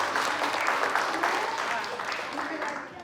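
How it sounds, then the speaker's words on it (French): Children clap together in a group welcome, a brisk burst of many small hands applauding at moderate volume, tapering slightly toward the end, with some voices mixed in. "On les applaudit."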